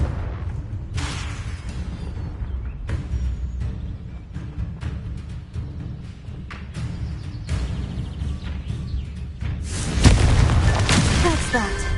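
A Confringo blasting spell detonates in a wizarding video game, a loud booming burst near the end rising out of busy game sounds and effects.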